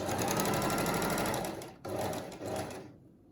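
A sewing machine stitches a fabric face mask, close and steady, its rapid needle whir broken by a brief stop before it starts again and winds down to silence at the end.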